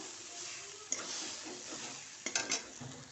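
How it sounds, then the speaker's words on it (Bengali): Spiced mashed potato filling for Bengali egg chops stirred in a pan, a soft steady scrape with a couple of sharper knocks of the spoon against the metal, close and fairly quiet with no talking. "আলু দিয়ে ভালো করে এই মশলাটার সঙ্গে মিশিয়ে নেব"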